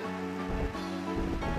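Rain falling on Route 212 in Pokémon Platinum, a soft steady hiss beneath looping low game music, faint and continuous.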